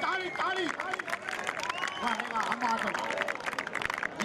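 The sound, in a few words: clapping at a kabaddi match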